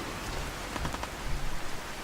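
Heavy rain in Fallout 4, a dense, steady hiss of downpour close up with faint scattered patters, heard alone without voices for about two seconds.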